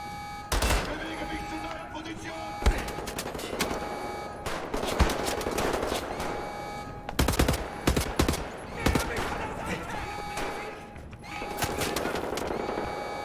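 Automatic gunfire from Wolfenstein: The New Order rattles out in repeated loud, close bursts, separated by short pauses, over a steady in-game hum.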